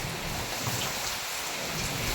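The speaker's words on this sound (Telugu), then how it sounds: "ఫుల్ వర్షం పడుతుంది నిజంగా చాలా డేంజరస్ వర్షము" Heavy rain driven by strong wind pours down in a thick, continuous roar of hissing wash, loud and unbroken, with no voices over it.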